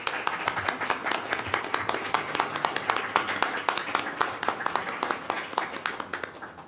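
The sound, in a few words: audience applause for the panelists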